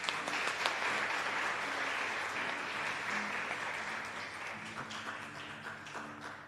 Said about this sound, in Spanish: Para ellos también un fuerte aplauso